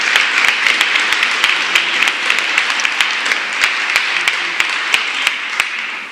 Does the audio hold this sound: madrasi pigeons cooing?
no